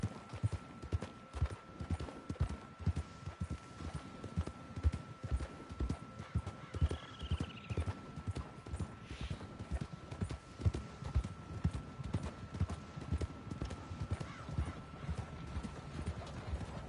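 Horse hooves clip-clopping at a steady trot in the Red Dead Online video game, a close, regular rhythm of hoofbeats that runs throughout, with a brief whinny partway through.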